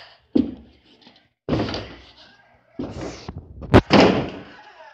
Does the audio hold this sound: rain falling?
no